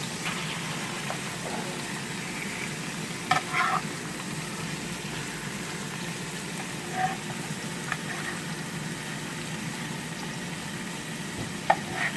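A burger patty fries in a pan with a steady, low sizzle throughout, broken by a few soft clicks and scrapes of a utensil.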